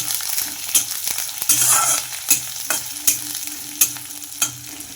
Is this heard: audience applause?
no